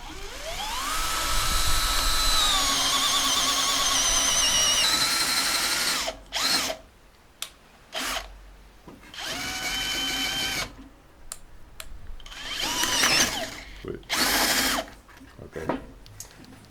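A power drill bores through a block of wood for a mosquito killer setup, its motor whining steadily at first, then cutting in and out in short bursts with pauses between.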